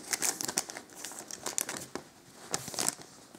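Crinkly foil Panini football card packet rustling in bursts as it is opened, close up, with sharp crackles and irregular handling noises and no voices.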